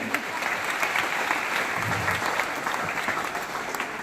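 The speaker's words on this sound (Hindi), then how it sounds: "आप ताली बजाकर उनका करतल ध्वनि से स्वागत करें।" At a school free-bicycle distribution event, the gathered audience claps to welcome the municipal council chairperson, a steady, fairly soft rattle of many hands that runs without a break.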